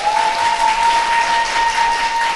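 Loud, steady applause from a live studio audience on a Korean political talk show, filling the whole stretch as a dense wash of clapping, with a faint high tone running underneath.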